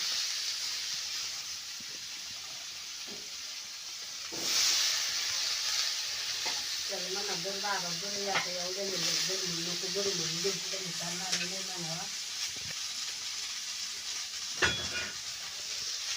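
Steady sizzling of hyacinth bean vegetable dry-frying in a kadai on a wood-fired stove, a soft hiss throughout with occasional stirring clatter, while a voice talks in the middle stretch.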